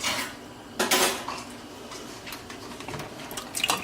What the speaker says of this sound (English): you're going to just throw the pasta in there